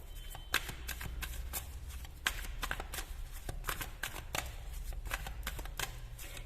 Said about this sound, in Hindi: पहले एनर्जी ऑरेकल कार्ड्स निकाल लेती हूँ